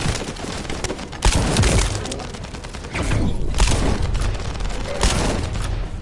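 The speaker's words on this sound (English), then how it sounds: "That stopped the gunfire" Gunfire and explosions in The First Descendant on PS5, a dense roar of rapid shots with heavy booming blasts that hits hard twice, sustained and loud with no pauses.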